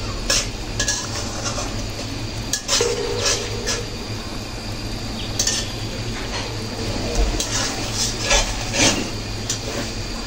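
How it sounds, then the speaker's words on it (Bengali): A spoon scrapes and stirs spices around a kadai while chicken curry cooks, giving repeated close metallic scrapes and clinks over a faint, steady sizzle, with no talking. "তো একটু পরপর মশলাগুলো এভাবে নেড়ে ছেড়ে দিতে হবে, যেন কড়াইয়ের তলায় চট করে লেগে না যায়"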